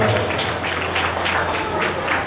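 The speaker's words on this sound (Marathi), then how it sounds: "तर त्यांच्यासाठी पण जोरदार टाळ्या असायला वाजायला" Audience at a special school annual function applauds parents and teachers, a steady dense wash of clapping filling the whole stretch with a faint crowd murmur beneath.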